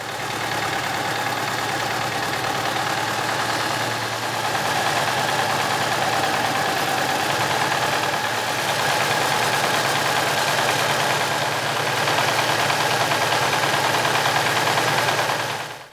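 A tractor engine idles steadily at a tractor driving contest, a loud, continuous low rumble with a constant hum and no voices over it.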